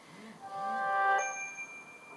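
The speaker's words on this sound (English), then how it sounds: "So that's just my phone." A single soft chime from a phone notification rings out once, faint and close, in an otherwise quiet room with no talking.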